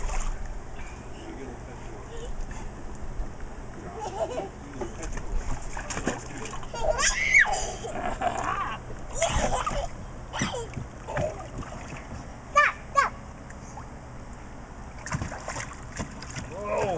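A child splashes in a backyard swimming pool, with irregular watery splashes and a slide nearby, heard close amid outdoor ambience while people talk.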